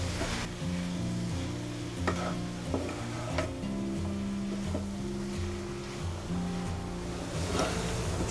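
Potato cutlet mixture being stirred and mixed in a pan, soft repeated scraping and light sizzling over a low hum, with scattered spatula knocks and no talking.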